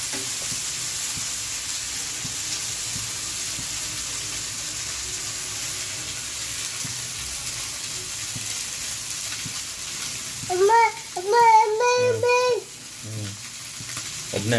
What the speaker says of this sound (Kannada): ಈ ಥರ ಒಂದು ಫಿಶ್ನ ಇದರಲ್ಲಿ ಬಾಣಲಿ ಮೇಲೆ ಹಾಕಿ ಮತ್ತು ಅದ್ರ ಮೇಲೆ ಎಣ್ಣೆ ಹಾಕಬೇಕು